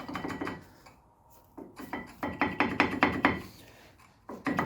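Brake pad being pried and wiggled out of a rusty Mercedes-Benz AMG brake caliper: a quick series of close, sharp metallic clicks and knocks in irregular bursts, with short quiet gaps between them.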